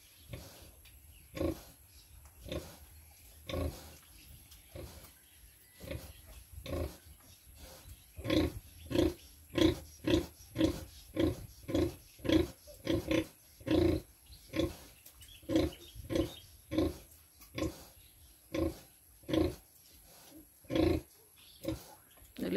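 Pigs and piglets grunt in a pen, a long run of deep, rhythmic grunts and snorts that gather pace and grow louder midway, close to the microphone.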